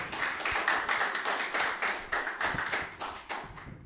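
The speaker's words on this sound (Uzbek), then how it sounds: "Olqishlar ostida" A studio audience applauds at a television quiz show, with steady, fairly close clapping that runs without a break and swells in rhythmic waves.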